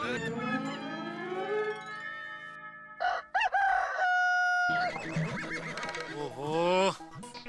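A human voice imitating a rooster's cock-a-doodle-doo in a comedy TV scene, with loud, drawn-out crowing calls that rise and bend, alongside other voices.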